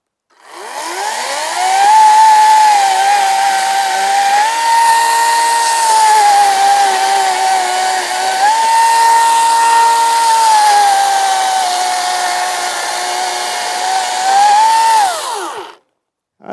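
An Ego 56-volt cordless chainsaw cutting through a hand-thick tree, a loud, steady electric whine that ramps up, holds for about fifteen seconds with slight dips in pitch under load, then winds down. Close and with no talking.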